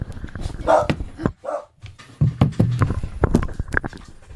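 Dogs bark and make short vocal bursts at close range, mixed with clattering movement and room noise in a home.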